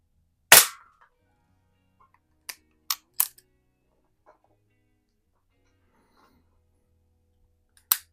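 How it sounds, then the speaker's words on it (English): A Rohm Twinmaster Match air pistol fires pellets at a can: several sharp, brief cracks spaced a second or so apart in a quiet outdoor setting, with a faint tinny hit or two between them. "Helps having a nice accurate pistol or accurate gun to shoot the pellets with, or at the target with."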